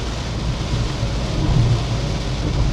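Dense, roaring downpour with a heavy low rumble, steady and loud throughout, like torrential rain heard from inside a moving vehicle, on a road trip to a Konkan village.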